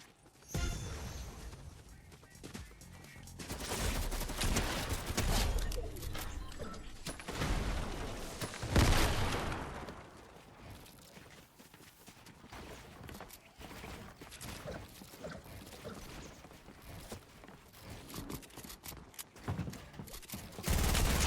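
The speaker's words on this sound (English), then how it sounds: "I noticed that the third party was also shooting a grenade launcher at me" Grenade launcher fire in a battle royale game, bursts of heavy gunfire and booming impacts, with loud stretches early, a sharp blast midway and scattered quieter shots after.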